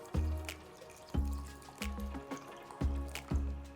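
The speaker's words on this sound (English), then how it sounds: "Wash the rice clean" Basmati rice is rinsed under running water, with sloshing swishes and splashes coming in uneven bursts close by, and no voices.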